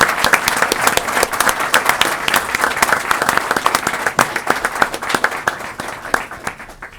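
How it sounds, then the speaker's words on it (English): An audience at a state transportation commission meeting applauds departing staff, dense sustained clapping from many hands that stays loud and even for several seconds before thinning toward the end. "let's give them another round of applause"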